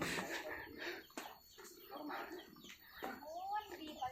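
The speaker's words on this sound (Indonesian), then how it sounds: "Tuh ada ayam, ada entog ya di sana." Soft chicken clucks and brief calls in a rural West Java village, mixed with people talking nearby, fairly quiet overall.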